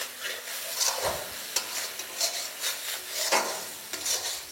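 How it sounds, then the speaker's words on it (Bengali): Ground cumin and coriander being stirred into chicken curry in oil, a spoon scraping the pan in repeated soft strokes with a faint sizzle underneath, close and fairly quiet. "তারপর এটাকে আবারও ভালো করে মেশাতে থাকুন।"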